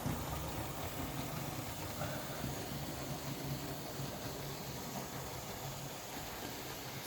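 A Lima model locomotive's electric motor runs smoothly and faintly for several seconds, giving a steady low whir and hum with no voices over it.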